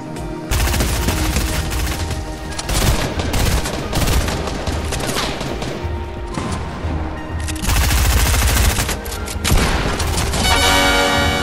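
Loud, continuous Fortnite gunfire at close range, with rapid automatic bursts and heavy booms layered almost without pause throughout. Shouting voices are partly buried beneath the shooting.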